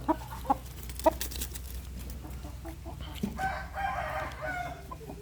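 Several Burmese chickens about five months old cluck and call at close range, with a rooster crowing partway through over a steady low farmyard hum.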